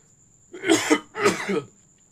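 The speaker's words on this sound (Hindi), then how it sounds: "देखिए बहुत ज़्यादा खांसी हो गया है" Two harsh, chesty coughs in quick succession, close and fairly loud, with quiet before and after.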